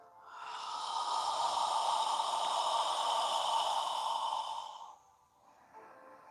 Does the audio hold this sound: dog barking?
no